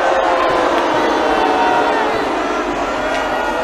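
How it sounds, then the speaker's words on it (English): A large festival crowd at Boomtown booing, a loud, sustained mass of voices heard up close and without a break. "you look at people booing me out here, you know. They're booing me."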